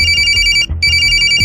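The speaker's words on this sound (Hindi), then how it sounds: "कि तभी मेरा मोबाइल बजा।" A mobile phone rings loudly and steadily in a quiet room late at night, its electronic ringtone repeating in a continuous pattern with one brief gap, alone and close.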